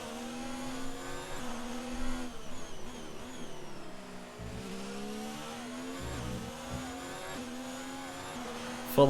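Racing cars in a sim-racing game on the Azerbaijan Grand Prix circuit run at full throttle, their engines whining high and rising through the gears, moderately loud, with pitch sweeps as they pass or shift.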